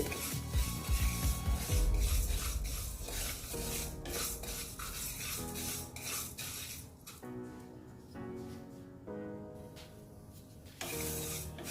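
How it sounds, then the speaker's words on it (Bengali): Lentils (dal) dry-roasting in a dry pan for a Bengali vegetarian dish, giving steady rasping and scraping stirs with light rattling, continuous and close, with no talking. "ডালটা আমি শুকনো খোলাতে ভেজে নিচ্ছি"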